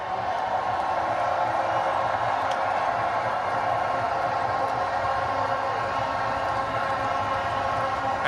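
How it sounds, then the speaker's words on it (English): A large crowd applauds and cheers for Rohit Sharma's T20 World Cup-winning cricket team, a dense, unbroken wash of clapping and cheering that holds steady and loud throughout. "Round of applause one more time for Rohit Sharma and his men."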